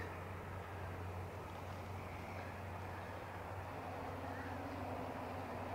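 A DJI Mavic Air 2 drone fitted with AirScrew stealth propellers flying in sport mode, giving a steady low droning hum throughout, even and unbroken, heard from a moderate distance.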